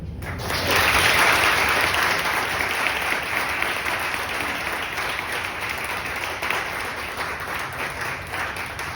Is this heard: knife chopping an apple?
no